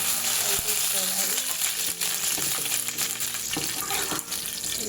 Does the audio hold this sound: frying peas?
yes